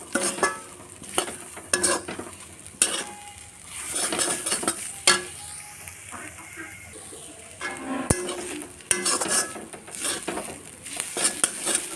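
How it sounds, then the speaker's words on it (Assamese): Turmeric, cumin and coriander powder fry in a pan for a coconut fish curry, a spoon stirring with repeated scraping and metallic clinks over a low sizzle, close and fairly loud. "এইখিনি দি অকণমান সময় এনেকৈ ভাজি থাকিব।"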